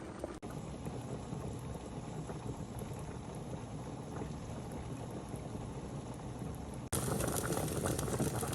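Potatoes boil in a pot as a continuous rough, bubbling rush, fairly loud and steady, which jumps abruptly brighter and louder for the last couple of seconds.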